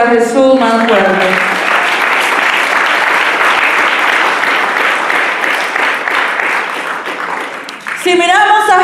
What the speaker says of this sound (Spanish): Ese aplauso para Jesús más fuerte.